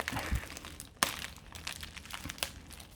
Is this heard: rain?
no